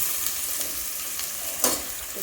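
Ginger garlic paste stirred into hot oil with curry leaves in a frying pan for besan biscuit curry, a steady close sizzle broken by soft spatula scrapes.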